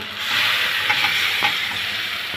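Pieces of green banana stirred into hot frying masala in a pan after fish has been removed, a steady close sizzle with a few soft scraping stirs.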